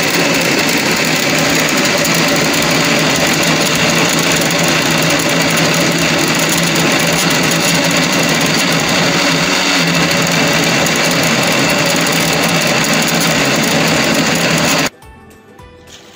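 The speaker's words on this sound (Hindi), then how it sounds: "दोबारा ब्लेंड कर लेंगे।" A kitchen blender whirring through a mint margarita with ice, a loud continuous grinding roar for about fifteen seconds before cutting off abruptly.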